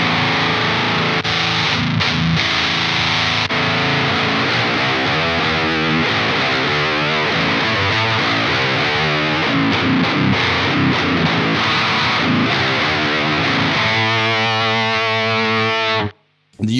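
Heavily distorted electric guitar through a distortion pedal with no preamp, a Swedish death metal tone, chugging riffs and sustained chords played loud and continuous for about sixteen seconds before cutting off abruptly.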